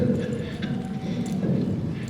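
A horse's hooves thud and shuffle steadily on the ground as it is ridden through a turn and brought to a stop, heard together with a voice talking.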